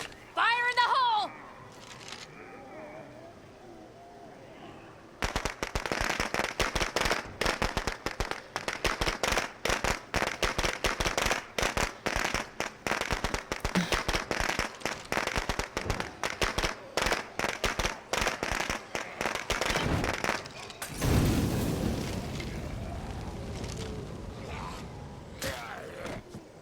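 Explosions and gunfire in State of Decay 2, a zombie survival game: after a brief quiet stretch, dense rapid cracking bursts fill most of the clip, ending with a louder blast and a rumbling tail.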